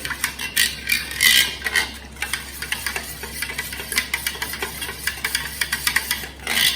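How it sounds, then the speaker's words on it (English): A spoon stirs thin Gujarati kadhi, a watery buttermilk-like mixture, in a pot, making rapid clinking and scraping strokes against the metal in an irregular rhythm, close and clear with no talking. "And go on stirring."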